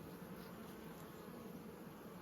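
Honey bees hum around an open hive, a soft, steady, close buzzing drone with no breaks.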